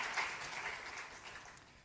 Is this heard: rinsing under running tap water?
no